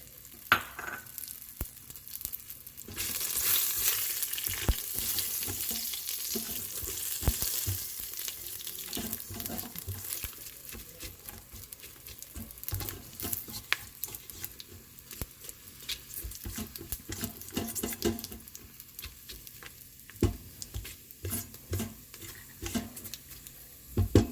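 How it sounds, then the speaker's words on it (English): Bay leaf, cumin seeds and whole spices sizzle in an Instant Pot, a steady moderate crackle and sputter with occasional pops and stirring noises, a brighter hiss bursting up briefly early on. "some cumin seeds, and the whole spices that I had mentioned."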